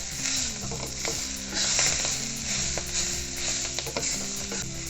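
Gram (chickpea) leaf sabzi is stirred with salt and peanut powder in a pan, giving a steady soft sizzle with scraping strokes throughout, under background music.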